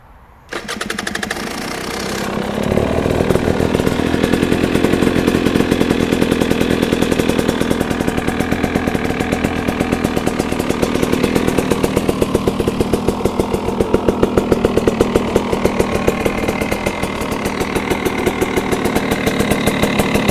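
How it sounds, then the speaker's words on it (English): A motorcycle fitted with a DEP exhaust pipe starts up and runs steadily, a close, loud, even engine drone with a rapid pulsing beat that holds for the whole stretch with no talk over it. "As you can see, the DEP pipe, it's not that loud. It certainly doesn't sound like a motocross system."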